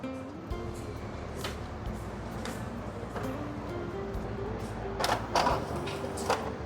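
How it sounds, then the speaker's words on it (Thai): An Epson EcoTank printer, connected over USB, prints with a steady mechanical whir and faint repeated ticks. A few louder clunks come near the end, all heard up close. "ทีนี้ลองพิมพ์ดูครับผมว่าพิมพ์ได้ไหมนะครับ"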